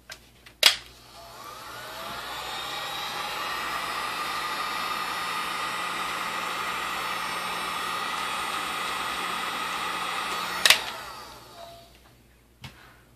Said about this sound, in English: You can use a hair dryer on this, or if you have a heat gun, you can use that.